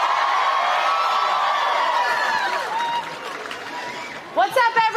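A large rally crowd cheers and whoops loudly and steadily for several seconds, the roar easing slightly before a voice cuts in over it at the end.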